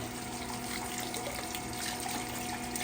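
A steady, dense rush of water under pressure sprays and washes in an outdoor home garden with tomato and ginger plants, continuous and even throughout with no talk.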